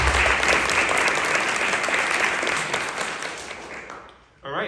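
An audience at a literary awards ceremony applauds a poetry reader with loud, sustained clapping that fades out after about four seconds, followed by a brief burst of sound at the end.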